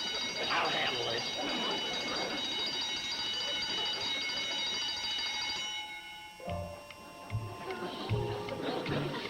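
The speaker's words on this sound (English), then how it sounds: "the alarm alerts us to the culprit that's trying to sneak in" A burglar alarm rings in a lobby, bright steady ringing tones sustained for most of the stretch under loud voices and bustle, then cutting off near the end as footsteps and talk continue.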